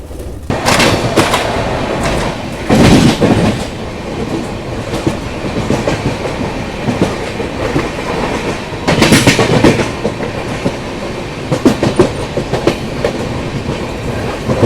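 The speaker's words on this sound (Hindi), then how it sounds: "जोधपुर वाराणसी मरुधर एक्सप्रेस। आगरा वाली लाइन से आ रही है मरुधर एक्सप्रेस" The Marudhar Express, a Jodhpur–Varanasi passenger train, rolls past on the rails with a loud, continuous rumble and rhythmic clickety-clack, swelling in several heavier bursts as coaches go by. No one speaks.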